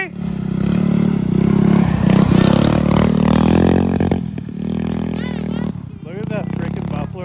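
A snowmobile engine roars and revs loudly while riding, close and rising and falling in pitch, with shouts and voices mixed in over the engine.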